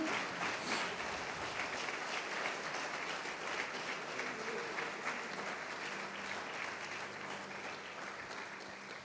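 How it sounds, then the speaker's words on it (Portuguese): A church congregation applauds together in sustained, dense clapping that fills the room. It fades slowly toward the end, with a faint voice underneath. "Pode aplaudir e glorificar o Senhor."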